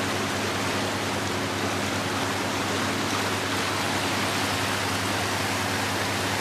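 Creek water rushing steadily past a debris-clogged spot, a dense, even wash of flowing noise that stays constant and fairly close throughout, with no voices.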